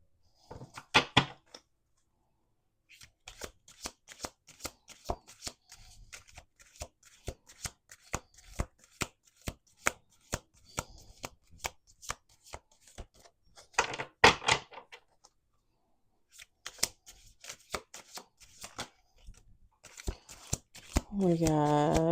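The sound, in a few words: shuffling a deck of cards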